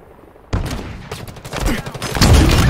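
Rapid gunfire bursts during a Halo Infinite capture-the-flag match, loud and close, building into denser overlapping volleys toward the end.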